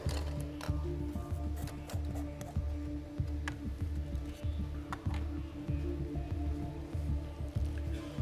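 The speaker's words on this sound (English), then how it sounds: "Kaká, you can shuffle and draw the first team of pot 4" Plastic draw balls are shuffled in a glass bowl at the UEFA Champions League 2025-26 draw, giving a fairly close run of irregular clicking and knocking taps.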